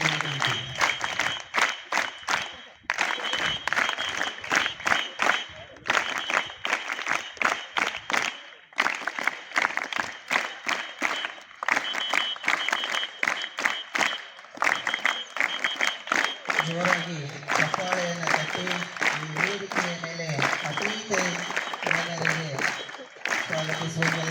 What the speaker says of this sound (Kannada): ವಿದ್ಯಾರ್ಥಿಗಳು ಜೋರಾಗಿ ಚಪ್ಪಾಳೆ ತಟ್ಟುವುದರ ಮೂಲಕ